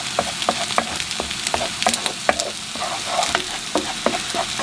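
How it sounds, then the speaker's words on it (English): A spatula scrambles egg in a frying pan beside rice: steady sizzling with frequent light scrapes and taps of the spatula against the pan, close and fairly loud. "I'm just going to use my spatula to scramble the egg"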